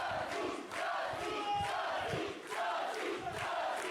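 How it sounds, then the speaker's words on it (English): Crowd at an independent wrestling show (Almada WrestleFest) roars and cheers for a wrestler named Santos, a rolling wash of voices that swells and dips in rhythmic surges. "Santos got the crowd behind him solid right now."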